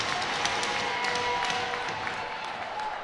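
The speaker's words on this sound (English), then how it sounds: "Excellent job on the PK by Bishops there as they get an applause from this crowd." A crowd at a women's hockey championship semifinal applauds steadily, the clapping moderately loud and diffuse and mixed with arena murmur throughout.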